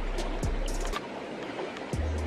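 River water flows in a steady close rush, with a few splashes and low knocks now and then, and no voices.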